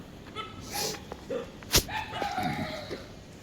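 Dogs bark at night around 3 a.m., with a few scattered barks and yips at moderate distance and a sharp louder yelp midway over quiet background noise.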